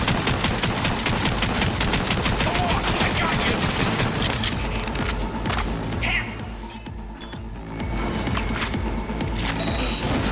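Rapid automatic gunfire from the video game Cyberpunk 2077, loud and dense bursts of shots firing in quick succession, briefly easing around the middle before the barrage resumes at full intensity.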